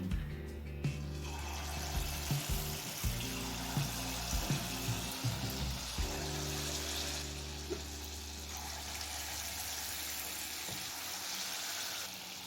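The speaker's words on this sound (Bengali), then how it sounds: "তেলটা হাই ফ্লেমে গরম করে নিয়েছি এবার বড়াগুলো ভেজে নেব" Mango leather fritters (aamsotto bora) fry in oil heated over a high gas flame, making a quiet, continuous watery sizzle with irregular soft pops over a low tonal hum.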